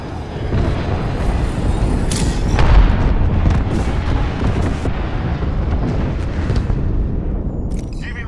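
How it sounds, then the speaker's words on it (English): Heavy airstrike explosions in an Apex Legends match, a sustained loud rumble of booming blasts with a stronger peak near the middle and scattered sharp cracks throughout. "Calling the airstrike."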